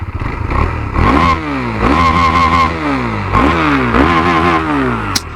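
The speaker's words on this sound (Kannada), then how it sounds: "ಬನ್ನಿ ಇದ್ರದ್ದು ಎಕ್ಸಾಸ್ಟ್ ನೋಟ್ ನ ಒಂದ್ ಕೇಳ್ಬಿಡೋಣ." A KTM Duke 390 single-cylinder 390cc motorcycle revs up close by, its loud exhaust note rising in three or four sweeping throttle blips that fall back to idle between pulls.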